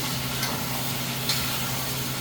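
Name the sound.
meatballs sizzling in a pan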